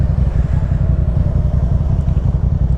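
A Yamaha MT-07 motorcycle is being ridden. Its engine makes a steady, loud, low rumble close to the listener, with no speech over it.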